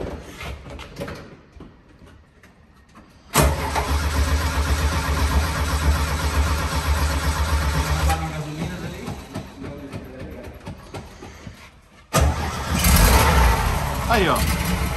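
A long-idle Chevrolet D10 double-cab diesel pickup cranks and catches, then runs loud and steady for several seconds before settling and cutting out, with a fresh burst of noise near the end and people talking around it.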